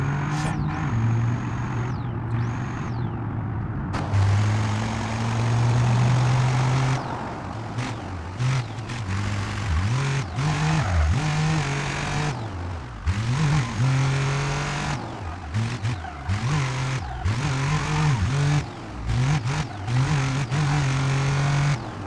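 A van's engine drones and revs in the BeamNG.Drive driving game, rising and falling through repeated accelerations and gear changes over a long stretch, loud and close with no speech.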